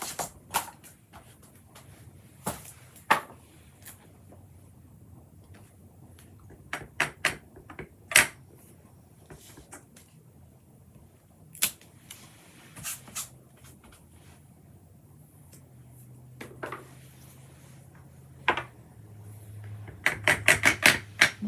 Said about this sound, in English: And let's do a little stamping.